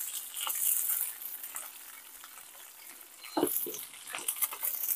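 Whole slit green chillies stirred through a dhokla tempering, a steady close sizzle with scraping spoon strokes that grow busier and louder toward the end; no voices.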